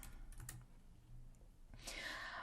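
Typing C++ code on a computer keyboard, a few soft key clicks over a low background hum, ending in a brief louder burst of keystrokes.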